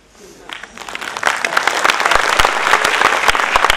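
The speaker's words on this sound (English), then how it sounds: "Is it an occasion for clapping?" Audience applause at a science lecture on polarisation, starting thin and quickly swelling into dense, steady clapping from a sizeable crowd, close and loud.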